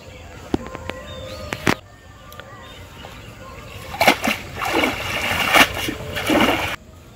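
Fishing net thrown into a pond for small fish, first a few sharp knocks, then a cluster of loud, close splashes and sloshing water.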